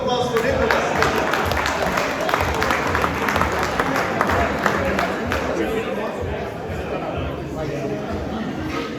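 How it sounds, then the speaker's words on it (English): Audience at a golf tournament awards reception applauds warmly, a steady burst of clapping mixed with chatter that fades slightly toward the end. "Please say a round of applause for Nicholas."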